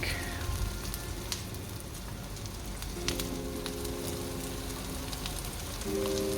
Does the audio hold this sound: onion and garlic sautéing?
yes